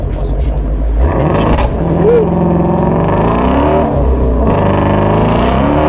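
Ford Mustang Shelby GT350 with its naturally aspirated 5.2-litre Voodoo V8, roaring loud and close with rising and falling revs, while someone talks over it.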